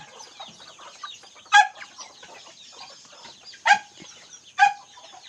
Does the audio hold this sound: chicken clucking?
yes